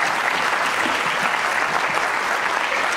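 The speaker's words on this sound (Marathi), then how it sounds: "एकदा जोरदार टाळ्या त्यांच्या करतात" Sustained audience applause at an acting academy event, a dense, steady wash of many hands clapping at even loudness throughout, with no voices over it.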